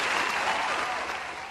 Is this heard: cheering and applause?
yes